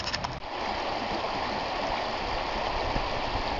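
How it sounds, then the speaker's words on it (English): The Chagrin River flows steadily on a June day, a continuous broadband rush of stream water close by, with a few small splashes at the start. "What a beautiful day on the Chagrin River."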